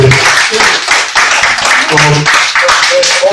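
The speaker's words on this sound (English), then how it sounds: "Y'all give yourself a round of applause for coming out, please." A crowd at a release party claps and cheers, a busy, loud patter of many hands that runs throughout, with voices talking and calling over the top.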